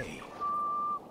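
A steady, pure whistle from a hay bale in Assassin's Creed Valhalla, held for about half a second over quiet game ambience with no talk.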